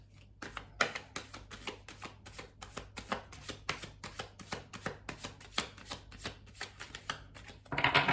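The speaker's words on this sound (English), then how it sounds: "we'll do one last shuffle" A rapid run of crisp card-shuffling riffles, steady clattering bursts one after another for several seconds, ending with a brighter, denser flurry.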